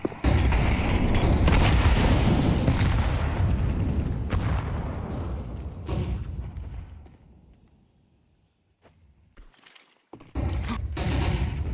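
Counter-Strike match with flashbang and grenade blasts: heavy booming bursts and rapid gunfire, loud at first, fading into near silence before another sharp burst of gunfire returns.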